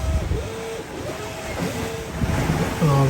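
Steady wind rushes over the deck of a sailing catamaran at sea, with waves washing against the hulls in a constant broadband roar and a few faint voice-like tones mixed in.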